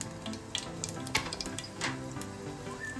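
Mustard seeds sizzling in two to three spoons of hot oil while tempering small poha idlis, a soft steady frying hiss with scattered light pops and crackles, fairly faint and close.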